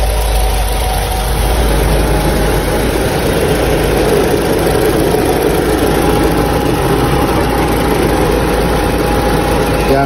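A Honda City engine idles steadily with its radiator fan motor running while hot, producing a constant, loud low rumble and whirring hum without breaks.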